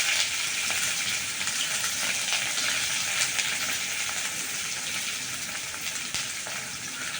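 Mustard seeds spluttering in hot oil while cooking a South Indian kara kuzhambu, a continuous close hiss and sizzle with scattered sharp pops, steady in level with no talking.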